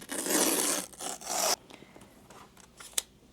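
Apple Pencil Pro packaging being opened, with a loud continuous ripping, scraping rasp for about a second and a half, then quieter small rustles and one sharp click near the end.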